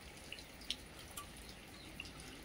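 Sparse, faint drips tap at irregular intervals against a soft, steady wet background hiss.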